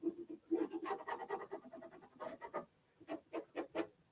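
A friction fine liner marker scratches marks onto fabric squares in short, quiet strokes, close up and alone, with brief pauses between rhythmic scribbles.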